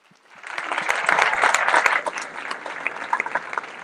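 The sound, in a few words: applause for special guests at school event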